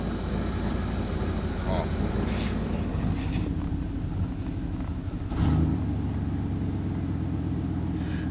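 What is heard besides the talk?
1991 Chevrolet Caprice engine idling, stumbling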